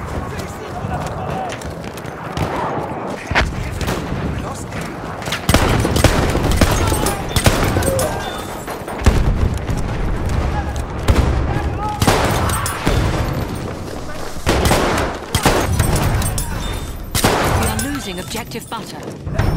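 Rapid gunfire and explosions from the video game Battlefield 1 come in repeated bursts throughout, under steady commentary from a voice.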